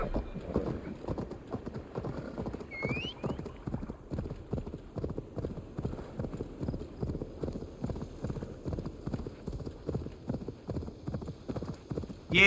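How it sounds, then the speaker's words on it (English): Horse hooves clip-clop at a steady riding gait in the video game Assassin's Creed Valhalla, a continuous even rhythm of soft thuds over quiet ambience, with no talk. "commence horse riding simulator"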